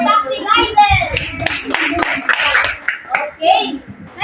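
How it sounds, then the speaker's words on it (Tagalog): A class of children in a Filipino classroom claps a set of five rhythmic claps, with children's voices chattering around and between the claps, close and fairly loud. "Bigyan natin ng 5 palakpak si Lizel"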